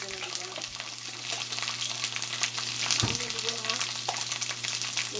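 Garlic paste frying in a pan with ginger paste, a bright continuous sizzle close up with a few stirring scrapes and a brief thump partway through, a voice faintly present.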